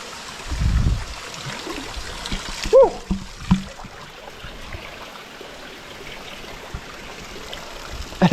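Bare feet wading through the ice-cold water section of a barefoot trail near Hallstatt, with soft splashes and trickling water nearby, a few louder sloshes, and people talking quietly at times.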